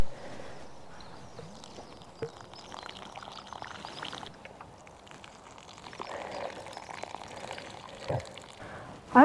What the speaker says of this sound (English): Let's water them in.